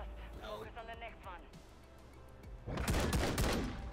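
Gunfire in the Call of Duty Modern Warfare 3 video game: a dense burst of shots erupts late in the clip, loud and close, after stretches of players talking over quieter game sound.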